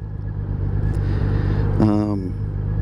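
Honda Valkyrie motorcycle engine on a test ride, a steady low rumble with a short rising rev near the end, loud and close, as someone talks over it.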